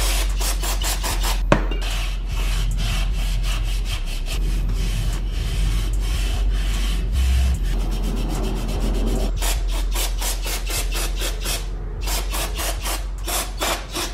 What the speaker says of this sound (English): Go through and start scrubbing some of this stuff loose.